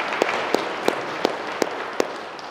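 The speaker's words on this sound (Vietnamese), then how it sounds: "xin quý vị cho một tràng pháo tay để" Crowd applause at a Catholic memorial festival for Father Truong Buu Diep, a steady wash of clapping with several sharper pops standing out at even intervals above it.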